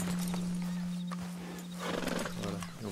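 Horse in the video game Red Dead Redemption 2, snorting and stamping with faint hoof clops and a short whinny-like rasp near the end, over a sustained low musical drone.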